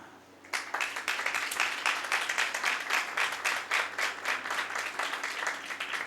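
Audience applause in a church lecture hall answers a call to pick first and second place, with dense clapping starting after half a second and holding steady and close until the end.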